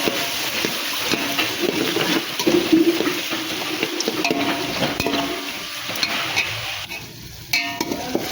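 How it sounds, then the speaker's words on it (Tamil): Onions and tomatoes sauté in a pan for a bitter gourd tamarind curry, stirred steadily with a soft sizzle and scraping, close and continuous for about eight seconds with no talking. "தக்காளி போட்டு நல்லா கிண்டி விட்டுருங்க"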